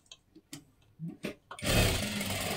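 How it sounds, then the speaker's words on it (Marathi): Sewing machine running steadily while double-stitching matka blouse fabric, a dense continuous whirring mechanical hum that starts abruptly after a few soft taps and handling sounds. "आणि डबल शिलाई मारून घ्यायची आहे अशा पद्धतीने"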